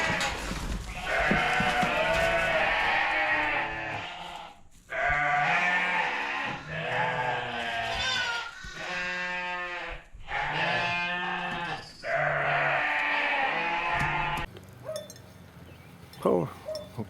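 Sheep bleating in a barn, several loud overlapping calls repeating close by in long wavering bursts, with a faint metallic clink near the end.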